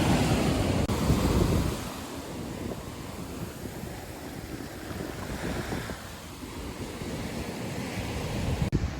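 Wind gusts roar across the microphone by the shore on a Florida beach, with surf washing in the background; loudest at the start, then a steadier breezy hiss.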